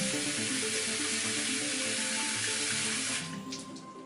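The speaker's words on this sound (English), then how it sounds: "So I'm gonna add water." Water pours in a steady, loud hiss over cut ginger and turmeric in a kitchen, then thins out and trails off near the end.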